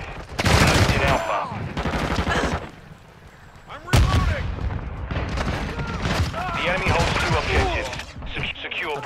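Loud gunfire in the shooter game Call of Duty: Modern Warfare II, sharp shots and rattling bursts close by, a heavy blast around the middle, with radio-style voices talking between the shots.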